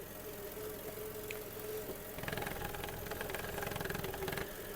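A 2005 Volkswagen Golf Plus with the 1.6 MPI petrol engine idles steadily, a low, even hum with no speech, gaining a slight rhythmic pulsing about halfway through.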